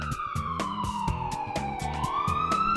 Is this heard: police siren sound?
yes